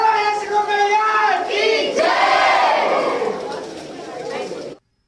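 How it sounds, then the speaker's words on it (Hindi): A dense crowd shouts devotional jaikaras for the Mother Goddess inside the Vaishno Devi temple cave in Vrindavan, loud overlapping chanting voices echoing continuously, tapering off toward the end. "यहाँ पे बहुत ज़्यादा शोर हो रहा था, जयकारे बोल रहे थे माँ रानी के।"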